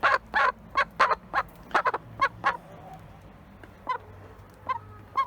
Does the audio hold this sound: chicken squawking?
yes